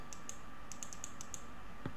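A computer keyboard clicks in short irregular bursts of keystrokes over a steady hum from a desktop PC setup, fairly quiet and close, with no one speaking.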